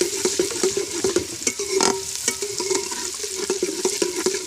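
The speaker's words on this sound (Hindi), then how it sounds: "प्याज हमने भून लिए हैं।" Onions frying and being stirred in a pan for chana dal curry, steady sizzling with repeated scraping strokes of a spoon, close and continuous with no talk.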